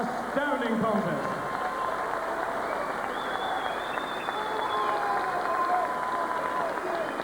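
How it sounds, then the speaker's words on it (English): A boxing arena crowd applauds steadily after the fight between Mehrdud Takaloo and Gary Logan, a dense wash of clapping and murmuring with a public address voice faintly audible over it. "referee Ian John Lewis wishes you to join him in applauding these two outstanding warriors"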